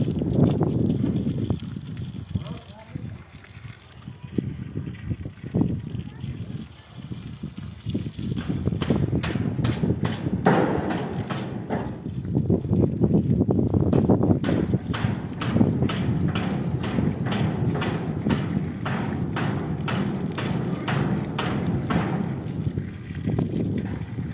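Wind buffets the microphone in steady gusts in Sinanlı, Haymana, Ankara, a low roaring rumble that persists throughout, with some irregular knocking and handling noise.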